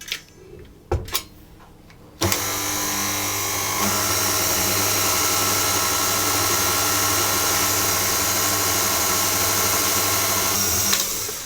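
Stand mixer kneading brioche dough for chocolate hazelnut buns at medium speed, a loud steady motor whir with a rhythmic mechanical drone that starts abruptly after a few quiet knocks and runs continuously.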